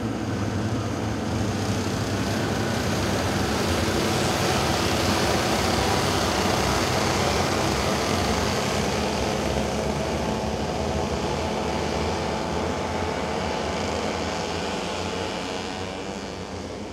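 A field of twelve Cadet Open racing karts circling the Mizunami circuit in a final heat, their small engines merging into a steady, continuous drone that holds loud throughout and fades only slightly at the end.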